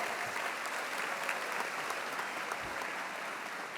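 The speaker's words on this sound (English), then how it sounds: "Everybody, give yourselves a round of applause for this." Audience applause at a college spring commencement, a broad, steady roar of many hands clapping in a large hall, heard alone from start to finish.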